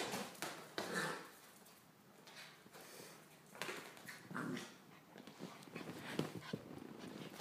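A dog growls and whimpers in short bursts while playing fetch with a mini soccer ball indoors, close by, with scuffling between the sounds.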